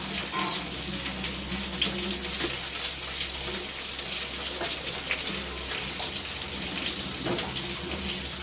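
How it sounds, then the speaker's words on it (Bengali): Tap water runs steadily in a home kitchen sink while rice is washed, a continuous hissing splash with faint clinks and rustles over it, no talk. "আর চালটা ধুয়ে নেব।"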